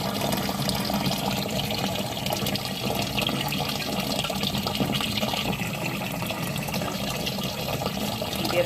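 Water pours steadily into a mini washer to fill it for rinsing merino fleece, a loud continuous gushing rush that runs unbroken and close by, with no speech.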